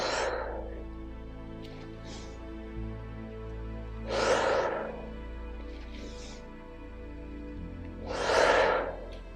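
Slow, deep yoga breaths, three loud drawn-out exhales spaced several seconds apart, with quieter inhales between, close to the microphone over a low steady hum.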